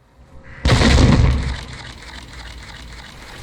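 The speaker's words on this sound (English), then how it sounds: "just listen to the sound of this shotgun shell hitting the floor" Shotgun blast in the Warhammer 40K Boltgun video game, a sudden heavy boom with a deep bassy punch that decays over about a second into a lingering rumble; a separate shell drop onto the floor is not distinct.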